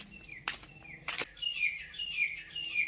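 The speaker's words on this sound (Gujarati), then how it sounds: "પંખી કેવા બોલે અટાણમાં" Birds chirp and whistle on a farm in the early morning, with sharp repeated calls and two loud bursts close by, and steady song continuing behind them.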